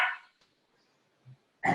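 A puppy barks indoors: one sharp bark, a brief low yip-like sound, then another loud bark after a pause. The barks are close and clear with near-silence between them and no speech.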